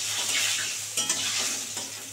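Fish head frying in oil for a Bengali moong dal dish, a steady close hiss and sizzle with a couple of brief stirring scrapes, no voices.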